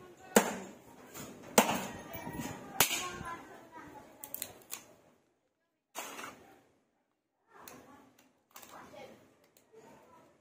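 Hammering on a building job in Silang, Cavite, nailing by hammer since no screws are left; sharp irregular knocks, several loud then fainter and spaced out, with talk around them.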